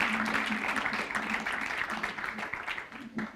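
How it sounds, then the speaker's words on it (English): Audience applause greeting a team taking the stage at a startup competition finals, a steady wash of clapping throughout with a faint tonal hum and some voices mixed in. "let's give Wood Scraper a big round of applause"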